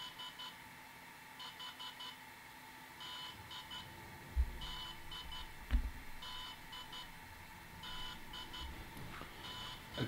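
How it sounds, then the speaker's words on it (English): A DJI Inspire 1 drone with X5 camera beeps electronically after a firmware update, in quick bursts of three or four, evenly spaced, with a couple of soft thuds in the background and no speech. "the beeping noise is a different sound"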